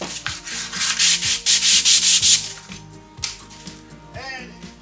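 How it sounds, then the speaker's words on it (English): Sanding a DIY fire pit grill, with loud rhythmic back-and-forth rasping strokes in the first half, then quieter scraping and handling noises. "So I'm just going to sand this up, paint it up, throw it in the ground"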